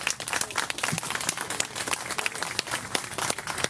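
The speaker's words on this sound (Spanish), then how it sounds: "Gran aplauso a Carlos Aracena." An audience applauding a speaker arriving on stage for a talk in Chile, with dense, steady clapping filling the room throughout and no talking.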